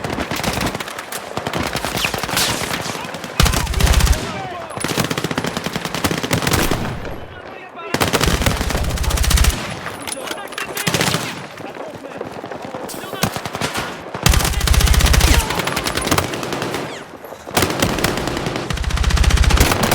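Automatic machine-gun fire in the Battlefield 6 campaign on PC, loud sustained bursts broken by short pauses, with explosions and battle noise and a voice talking over the combat.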